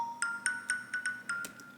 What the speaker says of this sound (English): kalimba, xylophone type sound